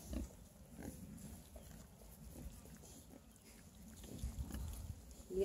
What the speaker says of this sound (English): Oh, don't pick on the little pig.